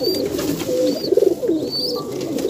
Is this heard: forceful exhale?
no